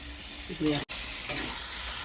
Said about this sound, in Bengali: তো এখন আমাদের মাংস কষানো হচ্ছে